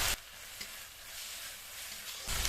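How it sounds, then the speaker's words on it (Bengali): Spice paste sizzles softly in hot oil in a pan while a spatula stirs it, a quiet steady fry with a few faint scrapes, framed by brief louder bursts at the start and end. "মশলাটা মিনিট খানিক ভেজে নেব"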